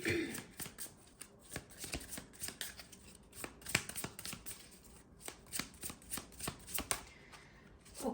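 Tarot cards being shuffled by hand up close: a quiet series of crisp, papery riffles and snaps in irregular bursts, with brief pauses between them.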